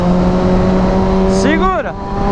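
A motorcycle engine hums steadily nearby, then revs up in quick rising pitch sweeps as it accelerates.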